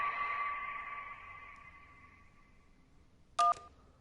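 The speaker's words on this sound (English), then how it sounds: "That was a phone ringing underwater." A phone rings underwater in the video game Kentucky Route Zero, a muffled, steady tone that slowly fades away, with a sharp keypad beep cutting in near the end.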